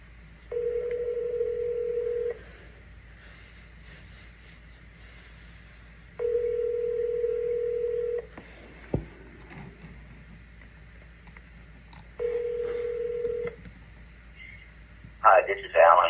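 A phone call to a transmission shop plays three long, steady ringback tones spaced a few seconds apart, each followed by a quiet gap. A brief click sounds in between, and a short burst of a voice or line noise comes at the end.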